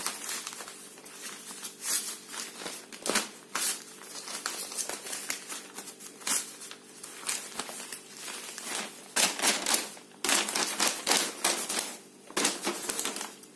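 Paper being folded into a box by hand, with a long run of crisp creasing, crinkling and tapping sounds in irregular bursts, close and fairly loud, with no talking.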